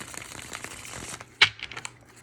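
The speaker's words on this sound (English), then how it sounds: "One more shuffle. And see what the tarot is telling us." Papery riffling and crackling of tarot cards being shuffled close by, ending in a sharp snap and a few softer flicks.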